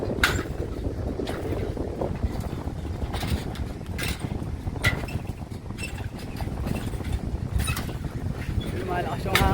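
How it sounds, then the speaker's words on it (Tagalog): Strong wind buffets the microphone outdoors during a hike, a constant heavy low rumble with gusty surges, while people talk over it. "Malakas yung hangin."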